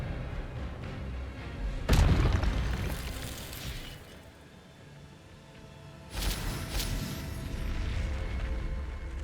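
Hogwarts Legacy Expelliarmus spell cast in a video game: a sudden loud magical burst with a booming blast near the two-second mark, fading into a low rumble before a second crackling surge swells up and sustains.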